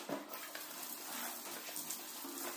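Hot water running and splashing inside a fridge water bottle as it is rinsed clean at a kitchen sink, a steady close gush of water with no talking.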